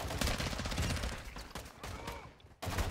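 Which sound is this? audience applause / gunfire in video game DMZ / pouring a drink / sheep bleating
gunfire in video game DMZ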